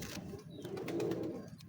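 A hand-held pigeon of a large, sturdy breed gives a soft, throaty coo, close and continuous for a moment with no other voices.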